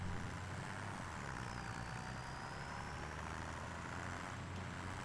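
A video-game John Deere tractor engine pulls two trailers toward a hill, a steady low droning hum that holds at an even, fairly quiet level with no voices.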